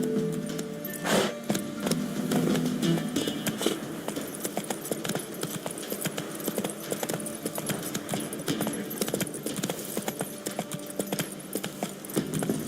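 A horse gallops in The Witcher 3: Wild Hunt, its hooves beating a rapid, steady clip-clop close by over a continuous rushing background with no voices.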